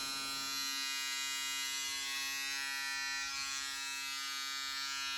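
A VGR V-368 electric hair clipper runs without pause, a steady high-pitched motor buzz with a dense hum that stays even throughout, up close, with no talking over it.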